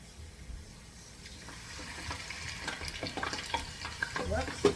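Potato chips frying in a pot of hot oil, a steady bubbling sizzle that builds louder toward the end with scattered crackling pops, heard alone without talk.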